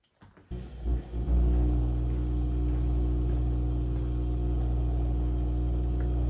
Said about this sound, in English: let's see what the dishwasher is doing.